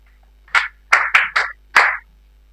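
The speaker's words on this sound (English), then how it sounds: "Very good. Let's clap for him." Five separate bursts of clapping from a small group of students during a marathon mathematics lesson, each burst short and sharp with brief pauses between, set against a quiet room.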